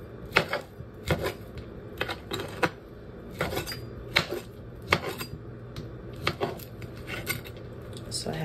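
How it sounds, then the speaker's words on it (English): A knife cuts a single sausage on a cutting board, first lengthwise and then across, giving a string of crisp taps and clicks against the board at an uneven pace, close by with a little faint background noise. "So we're just gonna do one sausage, and I just slice it right down the middle. Like this, and then I cut it across."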